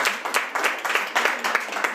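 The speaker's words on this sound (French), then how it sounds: "Je vous prie de l'applaudir" Brief applause from a small audience at a French talk, welcoming a volunteer named Michael: a couple of seconds of fairly close clapping with distinct individual claps heard within it.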